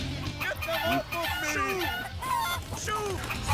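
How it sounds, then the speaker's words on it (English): Chickens cluck and squawk in a busy stream of game sound effects from Crash Twinsanity, with a voice talking over them. "Chickens!"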